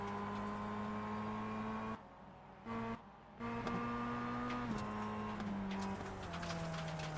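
A Mazda MX-5 Cup race car in the iRacing simulator, heard from the cockpit: a steady droning engine tone that briefly cuts out twice near the middle, then resumes and holds with slight pitch shifts.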